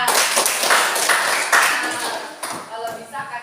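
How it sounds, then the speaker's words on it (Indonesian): A class of students claps hands in a classroom, bursts of close, sharp claps that come in uneven waves and fade toward the end, with voices and some ringing taps mixed in. "tepuk tangan."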